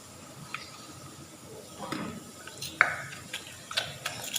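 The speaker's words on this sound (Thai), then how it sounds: "คนน้ำตาลละลายกันนะ" A spoon stirs sugar into a Thai fish sauce dipping sauce until it dissolves, giving faint, irregular clinks and scrapes against the bowl, with one sharper tap near the middle, quiet and close.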